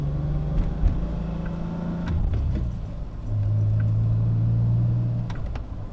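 DeLorean DMC-12 heard from inside as it drives, a low engine rumble that swells into a steadier, louder drone partway through, with faint background noise.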